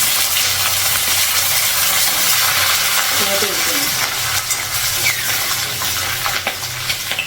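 Steady oil sizzle and crackle close by as green chillies and curry leaves are dropped into a hot pan, with faint stirring throughout.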